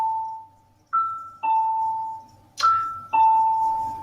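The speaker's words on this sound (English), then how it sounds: "Excuse the Amherst Central High School bell." An electronic bell at Amherst Central High School sounds a sequence of clear two-tone chimes, five strikes each ringing out and fading, with no talk over them.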